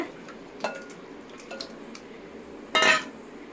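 A few soft kitchen clinks and knocks, then a brief wet slap as washed raw chicken drops into a bowl; quiet and close, no talking.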